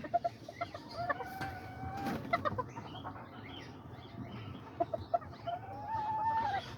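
Rooster crows rise twice among short chicken clucks in a coop, the crows drawn-out and fairly clear while scattered clucks and soft rustling fill the gaps at moderate distance.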